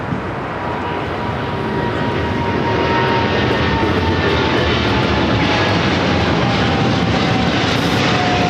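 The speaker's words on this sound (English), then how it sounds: "We have the China Airlines Cargo 777 freighter on 25 left, now rolling." A China Airlines Cargo Boeing 777 freighter rolls for takeoff on runway 25 left at LAX, its engines a loud, steady, broadband roar that swells slightly and holds for several seconds without any speech.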